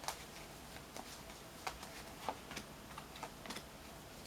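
Tarot cards being shuffled by hand, a quiet series of soft close flicks and taps in uneven bursts with no voices.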